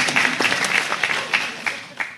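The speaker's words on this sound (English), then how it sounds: "Clap for yourself." An audience at a political candidate forum claps briefly, with uneven, distinct hand claps that swell and fade in a short, loose burst.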